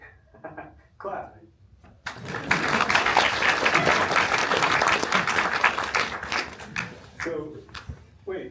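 An NYU audience at a basketball panel claps loudly and steadily for about five seconds, with scattered talk from a speaker before the applause and again as it dies down.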